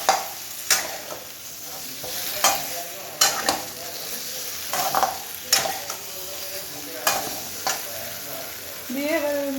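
Vegetarian potato curry (niramish alur dom) is stirred in a pan after water has been added. A spoon scrapes in repeated sharp strokes over a steady soft sizzle. The sound is close and there is no talk.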